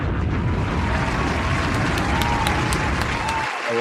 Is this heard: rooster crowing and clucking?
no